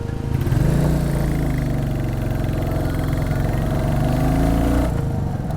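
A Royal Enfield Classic 350 motorcycle engine idles close by, a steady loud thumping single-cylinder beat with a slight rise in revs near the end, no talking.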